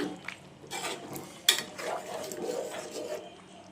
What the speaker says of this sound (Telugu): ఉప్పు అయితే వేస్తున్నాను ఒకసారి కలుపుకున్నా